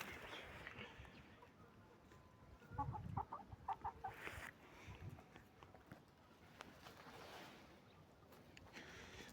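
Large black Andijan chickens cluck in a short burst of repeated calls near the middle, over a noisy outdoor background with faint rustling.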